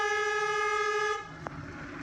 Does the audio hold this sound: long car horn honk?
yes